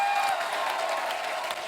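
A studio audience applauds on a televised comedy and music show in welcome of a singer, a dense, steady wash of clapping held at even loudness for the whole stretch, with no voices on top.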